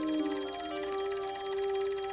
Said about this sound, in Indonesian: Saat Garnet mengangkat telepon